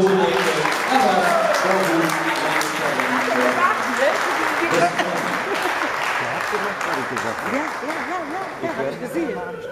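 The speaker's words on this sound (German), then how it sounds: "Nochmal ihr Applaus für die beiden Jungs" Crowd applause fills a boxing hall after the points verdict in a German U21 championship bout, sustained and fairly loud beneath an announcer talking over it throughout.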